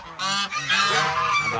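Farm geese honk loudly and close by, their harsh calls overlapping in one continuous noisy burst with a brief dip partway through.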